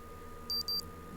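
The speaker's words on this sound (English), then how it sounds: "My watch beeps indicating it's now 4 hours until midnight." A digital watch gives two short, high-pitched beeps in quick succession, clear against a quiet background.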